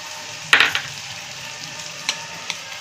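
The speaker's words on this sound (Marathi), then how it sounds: "कांदा चांगला भाजून द्यायचा गोल्डन ब्राउन कलरवर" Sliced onion frying in a pan makes a soft sizzle beneath a few scraping stirs, with one louder scrape and lighter clinks following, close and without talk.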